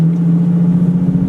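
Nissan 370Z with a manual gearbox running at a steady engine drone, a close, even hum that holds level through the whole moment with no clear rev spike, suggesting gas held during a gear change.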